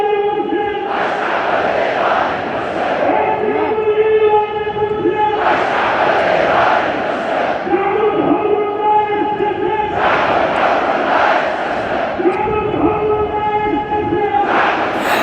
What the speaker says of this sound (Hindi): बेतहाशा भीड़ है भाई, बेतहाशा भीड़।